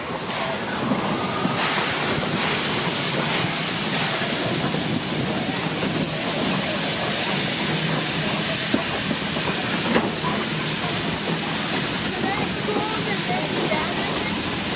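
Steam hisses continuously from an oil-burning steam locomotive on a Sierra logging railroad, a loud, dense rushing noise that holds steady with faint mechanical rumble beneath and people talking nearby.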